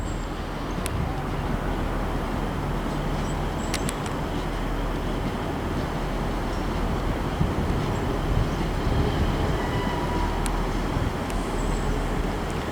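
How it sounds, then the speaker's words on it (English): A ScotRail train, unit 158705 from Montrose, arrives at a platform in Aberdeen station with a steady rumble and rail noise throughout, with a few brief squeals and clanks, heard at moderate distance without talk. "approaching in now is going to be a ScotRail service terminating in from Montrose"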